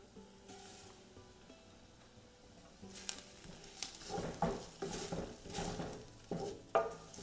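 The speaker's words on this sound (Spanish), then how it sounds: "vamos a llevar el arroz y lo vamos a citronar también por unos cuantos minutos" Rice sautéing in a pot with vegetables for a ground-beef soup, a wooden-spoon stir scraping and clacking in short bursts over a soft sizzle, quiet at first and then busier with uneven knocks against the pot.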